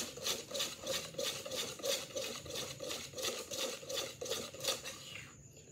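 Crinkle cookie batter with oil being stirred in a bowl, a steady rhythmic scraping and clinking of a utensil against the bowl, moderately close and unaccompanied by talk.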